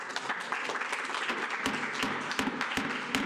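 An audience at a planning commission meeting applauds steadily, dense clapping with sharper individual claps rising through it and no talk.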